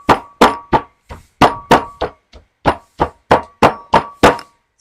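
About a dozen loud, sharp metallic knocks ring out in an uneven rhythm as a hammer bashes food into a paste, each strike leaving a short clanging ring.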